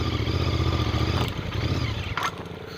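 A motorcycle labouring on a rough, rainy offroad track chugs loudly, then its engine falters and stalls partway through, leaving clattering and faint mechanical noise.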